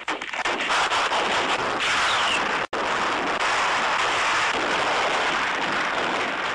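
Battle of Iwo Jima war footage carries loud, dense gunfire. It is a continuous crackling roar of shots and blasts that stops dead for an instant partway through, then resumes, with no speech.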